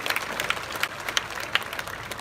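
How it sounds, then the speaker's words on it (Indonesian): An audience at a festival opening ceremony in an outdoor art center claps in a short, lively burst of applause, with individual claps standing out. "Tepuk tangan untuk pariwisata kita."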